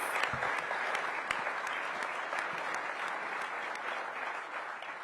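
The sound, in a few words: audience applause for the commissioner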